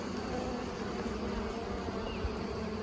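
Honeybees on a frame of a newly transferred nuc hive buzz in a soft, steady, continuous hum close by.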